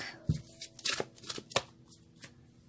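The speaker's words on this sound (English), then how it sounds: "One more shuffle, they say." A deck of cards is shuffled for a tarot-style card reading, giving quiet riffling and soft flicking bursts in an irregular rhythm, close up with no voices.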